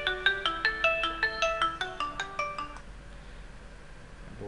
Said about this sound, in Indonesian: Oke, ada telepon lagi.